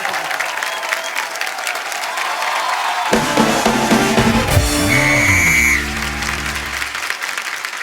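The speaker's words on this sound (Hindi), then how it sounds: "थैंक यू, जोरदार ताली" A studio audience on a comedy talk show claps loudly. Partway through, a bright musical sting with sweeping tones plays over the applause before the clapping carries on underneath.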